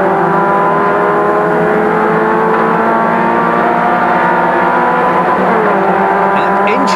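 Rover racing cars scream past at over 100 mph on Silverstone's National Circuit club straight, engines droning loud and steady, with a commentator talking over the racket.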